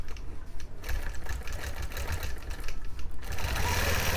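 A sewing machine stitching along a quilting seam runs steadily and close up, its needle a fast, even mechanical chatter with no pauses.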